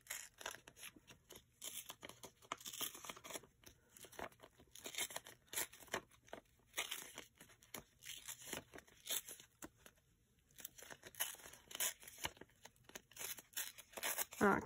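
Book pages tear and crinkle in repeated short rips, soft and close, with brief pauses between pulls and a voice now and then in the background.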